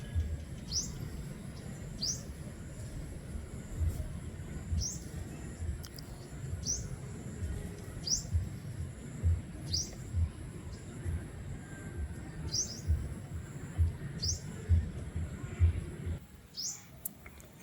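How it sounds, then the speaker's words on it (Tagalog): Small bird singing beside a goat field outdoors, short high chirps repeating roughly every second over a faint, steady background rumble, no talk. "may ibon na kumakanta"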